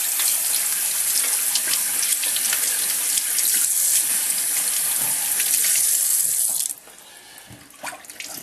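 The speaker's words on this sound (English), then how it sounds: "Now, I'm going to rinse him off." A freshly cleaned squirrel is rinsed under a running tap into a sink, with steady, close water splashing and hissing that drops to a softer flow near the end.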